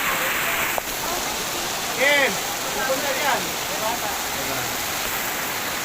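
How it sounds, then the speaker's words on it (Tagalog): Heavy rain pours down hard at a cemetery, a loud, constant rushing hiss throughout, with people calling out and talking over the downpour. "sobrang lakas ng buhos ng ulan dito"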